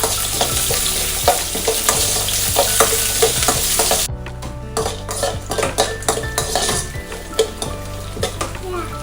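Curry leaves frying in a pan for lemon rice, a loud crackling sizzle with metal spoon clinks and scraping against the pan, the sizzle thinning halfway through while the clatter continues.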